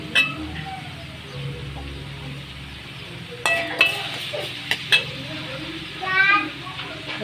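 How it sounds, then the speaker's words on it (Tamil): Tomatoes sautéing in a pan with turmeric and salt give a soft, steady sizzle, broken by a few sharp clinks and scrapes of a spoon against the metal pan as they are stirred nearby. "தக்காளி வதங்கிட்டுருக்கு."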